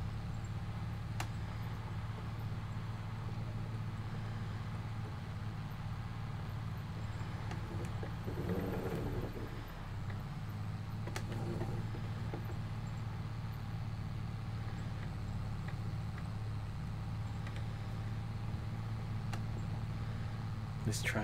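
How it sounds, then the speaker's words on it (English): A tractor in Farming Simulator 22 straining as it pulls a baler, a steady low engine drone running continuously and fairly quiet, with a voice talking over it. "this tractor should not be pulling this hard on the baler"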